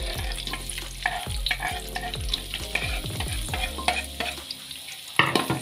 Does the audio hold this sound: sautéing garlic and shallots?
yes